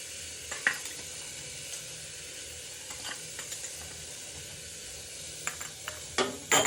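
Mutton stew being stirred in a pan, with a continuous soft sizzle and scattered light scrapes and clinks of a spoon, ending in a louder cluster of stirring sounds close by.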